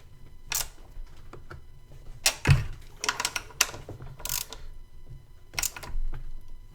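Ratchet tightening throttle body nuts on a 2000 Chevy Tahoe, heard as short bursts of fine mechanical clicking in several separate spells with pauses between, close and fairly quiet, with no talking.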